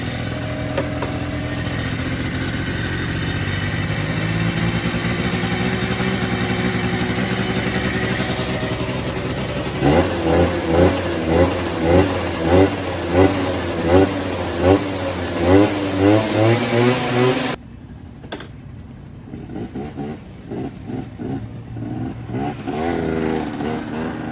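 A Honda Elite SE 50 scooter engine warms up after sitting unused for a couple of months, running with a loud, steady drone that shifts to a pulsing, uneven idle, then drops to a quieter putter.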